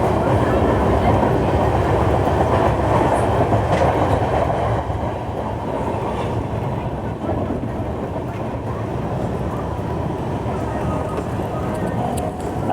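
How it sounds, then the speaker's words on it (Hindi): Shirdi Mysuru Express running on the tracks past wind farms near Balganur, a steady onboard rumble with faint clickety-clack of wheels, loud and continuous, with a voice talking over it. "अभी हमारी ट्रेन ने क्रॉस किया है बलगनूर"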